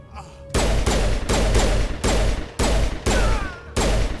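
A burst of gunfire in Mass Effect Legendary Edition: about six loud, heavy shots in quick succession, each with a booming low thump and sharp crack, close and dominant.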